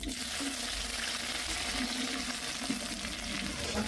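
Onions and chillies frying in oil while being stirred, giving a continuous close hiss and crackle that stays even throughout, with faint voices in the background.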